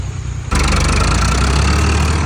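A tractor engine working with a scraper blade, moving soil onto a flood embankment, chugs loudly after a quieter opening, its low steady throb running without a break.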